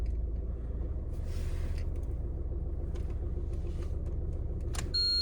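An Alfa Romeo Giulietta car engine runs at a steady idle, a close, loud, constant low rumble throughout, with a few brief clicks and a chime near the end.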